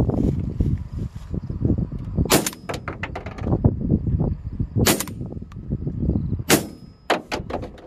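A Weatherby SA-08 shotgun fires three loud, close shots a couple of seconds apart on a hot day outdoors, each a sharp blast over a steady low rumble of background noise.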